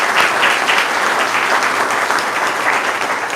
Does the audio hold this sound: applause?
yes